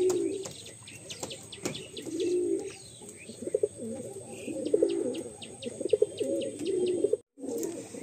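Madrasi pigeons coo in a loft, repeated soft throaty rolling coos from several birds close by, mixed with faint chirps and a brief flutter of wings.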